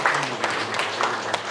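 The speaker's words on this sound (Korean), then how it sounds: "환영의 박수 부탁드립니다." Welcoming applause from an audience at a Gyeryong city residents' briefing on the Daejeon–Chungnam administrative integration as council members are introduced, brief dense clapping filling the room.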